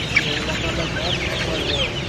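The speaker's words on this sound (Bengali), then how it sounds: "এই পাশে ভরপুর কাদারনাথ রয়েছে, ভরপুর।" Month-old Kadaknath chickens massed at a wholesale poultry market, a dense chorus of chirping and clucking close by, continuous and fairly loud, with a faint voice in the background.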